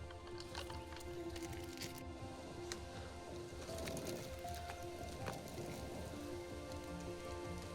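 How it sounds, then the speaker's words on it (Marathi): Steady rain on a high hill patters on surfaces in a continuous hiss, with a few faint bird calls in the background. "तर पाऊस बघा इकडे चालू झालाय"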